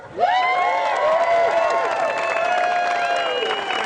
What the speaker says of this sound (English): let's have a nice rousing round of applause for this first annual Walk a Mile in Her Shoes